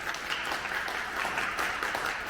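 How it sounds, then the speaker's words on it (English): A live audience at a Women in Construction panel gives sustained, dense applause for the panelists. The clapping stays steady and fairly loud throughout, with no speech over it. "Everybody give them a big round of applause right here."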